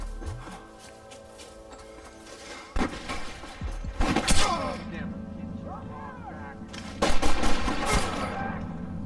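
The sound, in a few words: gunfire in video game Red Dead Redemption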